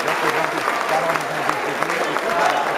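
A crowd applauds steadily at a basketball team introduction, a dense patter of clapping throughout, while a voice speaks over it.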